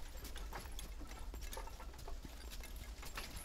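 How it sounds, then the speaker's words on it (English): Faint, steady clip-clop of hooves over a low rumbling background, like a horse-drawn carriage rolling along at a distance, in the video game The Kingsport Cases. "Sounds like a horse carriage, maybe?"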